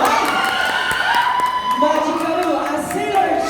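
Convention audience claps and cheers for cosplay hosts dressed as Sailor Moon characters, a loud, continuous mix of handclaps and shouting voices with an emcee speaking over the noise.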